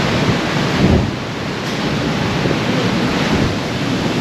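Steady roar of wind over open water aboard a ferry crossing Bass Strait, a broad continuous rush with a faint surge of surf, loud and unbroken, no voices.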